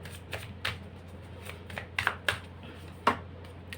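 Tarot cards being shuffled and drawn for a reading, giving soft papery riffles and a few sharper flicks as cards are pulled, close and fairly quiet over a low steady hum.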